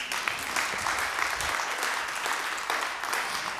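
Studio audience clapping on a televised Ramadan debate show, a continuous, fairly loud round of applause lasting a few seconds with no talk over it.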